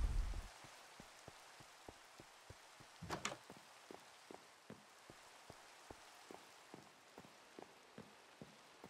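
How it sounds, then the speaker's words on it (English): Rain in a video game world hisses as a steady wash, with small regular ticks and one brief louder rattle partway through; no voices. "I think this might be one of the first times it's rained today on the server."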